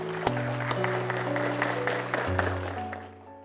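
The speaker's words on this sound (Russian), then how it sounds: "благословим от чистого сердца громкими аплодисментами" Wedding guests clap for a newly married couple at a ceremony, a light, even patter of applause beneath sustained background music, with a few sharper claps standing out.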